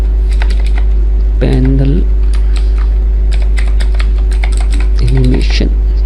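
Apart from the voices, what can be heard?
typing on computer keyboard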